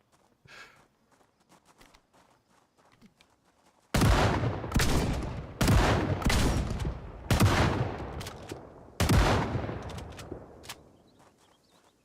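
Shotgun fire in the zombie survival game Project Zomboid: after a quiet stretch with faint movement, five loud, close blasts go off in uneven succession, each with a short ringing tail.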